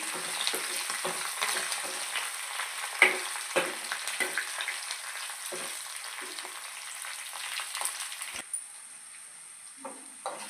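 Curry leaves and dried red chilies fry in hot oil for a tempering, a steady hissing sizzle with scattered crackles and spatters and a few stirring scrapes, easing off near the end.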